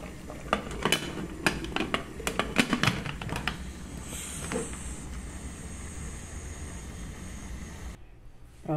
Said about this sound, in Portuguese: agora eu vou colocar a tampa para cozinhar o milho e a mandioca